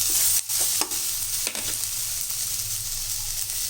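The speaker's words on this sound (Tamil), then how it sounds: "மிளகு, சீரகம், சோம்பு இது எல்லாம் சேர்த்து நல்லா வதக்கிடணும்" Onions with pepper, cumin and fennel sautéing in a pan for mutton kulambu, a steady close sizzle with a few brief stirring scrapes near the start and no talk.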